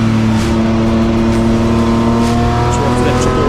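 BMW race cars in the M Performance Parts Race Series at Zwartkops lap slower backmarkers, giving a loud, sustained engine drone with shifting tones as they pass close by, while a commentator talks over it.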